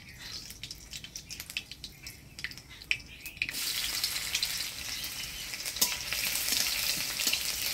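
Black cumin and crushed garlic sizzling in hot oil for greens, starting with sparse crackles and pops that swell into a loud, dense, continuous frying hiss partway through, close and without voices.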